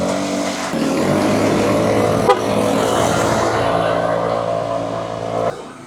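A newly acquired motorbike engine runs steadily close by, a sustained drone with layered harmonics holding for about five seconds, a brief sharp click near the middle, then cutting off abruptly near the end.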